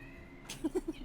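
A cat gives three short meows in quick succession near the end, fairly close, over low background noise.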